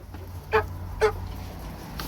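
Two short clucks about half a second apart, then a fainter third, over a low steady background hum.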